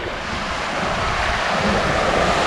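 Small surf waves break steadily on a windy beach, a broad continuous wash of water with wind noise buffeting the microphone, no voices present.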